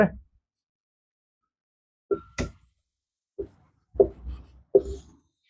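Chalk or marker strokes on a board during a chemistry lecture on quantum numbers and orbital shapes: short scratchy bursts, one stroke, then a pause, then several quick strokes in a loose rhythm, close and fairly clear with no talk over them.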